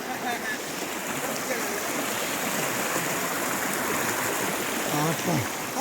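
Steady rushing of a swollen mountain stream in a Himalayan village, running high, broad and continuous throughout, with a faint voice briefly in the background.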